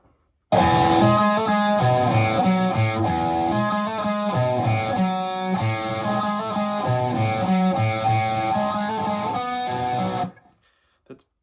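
Heavy distorted electric guitar riff from a song's intro, loud and up close, repeating chugging patterns for about ten seconds before stopping abruptly.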